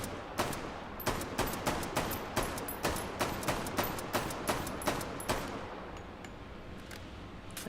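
Rapid unsuppressed gunshots from a weapon in the VR shooter game H3VR, roughly fifteen sharp loud reports in an irregular quick string, then a lingering echoing tail with no further shots.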